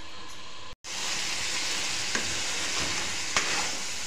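Chicken cooking with masala in a pan gives a dense, steady sizzle with a brief break near the start and a couple of faint stirring clicks, close and continuous.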